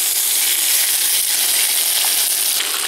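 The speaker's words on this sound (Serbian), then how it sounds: "Kada se ulje ugrejalo, spuštamo rebra i pržimo 5 minuta sa jedne strane" Pork ribs frying in hot oil in a pan give off a steady, dense crackling sizzle that holds evenly close up throughout, with no voices over it.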